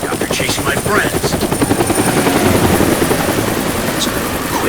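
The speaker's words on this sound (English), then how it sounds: "That's the helicopter chasing my friends." Helicopter in the video game Deadlight, a loud, close rotor chop with rapid steady thumping and a whining engine tone running throughout.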